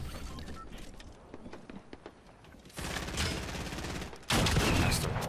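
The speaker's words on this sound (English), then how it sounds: "We are getting shot from our right" Gunfire in the Fortnite Battle Royale video game: rapid bursts of shots rattle in sequence, starting moderate and growing into louder, denser volleys of automatic fire near the end.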